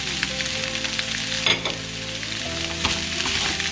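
Fish cutlet mixture with chopped coriander is stirred in a sizzling frying pan, with steady frying hiss, scattered spoon scrapes and small clinks up close.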